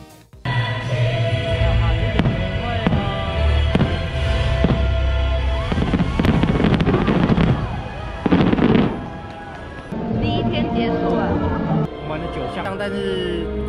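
Fireworks bursting over Tokyo Disneyland, a dense run of loud booms, crackles and pops with a steady sparkling hiss, while a crowd murmurs and voices are heard throughout.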